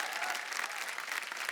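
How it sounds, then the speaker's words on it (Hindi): Audience applause at a business reality show, a dense, steady patter of many hands clapping together, moderately loud and continuous with no talk over it. "जोरदार तालियां हो जाए भाई के लिए।"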